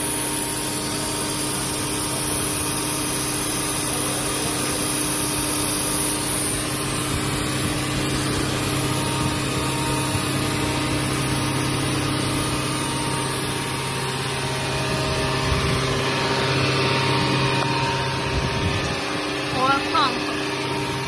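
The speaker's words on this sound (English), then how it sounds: "FUOOTECH Sustainable Customers COP series with cooking oil purifier machine is testing before delivery" A FUOOTECH COP-150 used cooking oil purifier machine, a 9000 LPH recycling unit with vacuum chopper, pump and filters, runs on test with a steady mechanical hum and whine throughout. A few brief knocks come near the end, and there is no clear talk.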